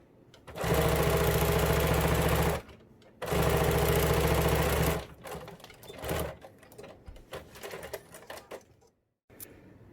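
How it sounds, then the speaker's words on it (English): A sewing machine stitches the straps of a fabric surgical mask in two loud sustained runs, then short stop-start bursts, close up with no talk. "And we're going to sew all the way end out."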